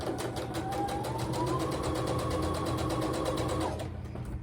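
A sewing machine stitching a quilt block for a sew-along, its needle hammering in a fast even rhythm with a motor whine, close and uninterrupted before stopping near the end.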